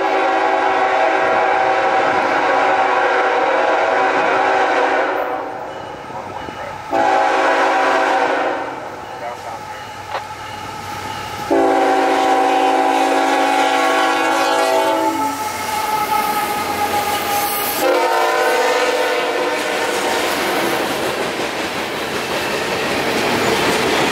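A southbound CSX freight train, H750, passes close and loud with a steady rumble of railcars, while its horn blasts several times in long sustained chords at a road crossing.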